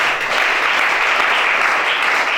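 Audience at a church gathering applauding, a loud, even wash of clapping that carries on without a break and drowns out everything else.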